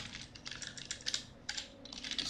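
Rapid keystrokes on a computer keyboard while code is typed, steady irregular clicking bursts at close range with brief pauses, no voices.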